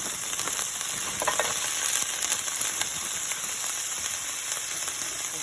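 Broccoli florets sizzling and frying in hot oil in a pan on a stove, a steady dense crackle with faint stirring, close and alone without voices.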